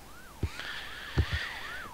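An ambulance siren from the emergency-services video game Emergency 4 wails steadily with a rising and falling sweep, mid-distance and continuous, broken by a few low thumps.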